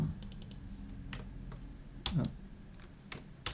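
Keys clatter on a computer keyboard while a title is typed into an AutoCAD drawing, a few quick taps followed by sparse separate clicks, close and fairly quiet.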